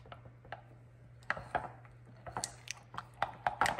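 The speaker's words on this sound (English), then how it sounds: "Let's stir those in." Cinnamon being stirred into a microwave butterscotch apple dip; a spoon scrapes and taps against the bowl in irregular, close clicks that grow busier toward the end, over a faint steady hum, with no talking.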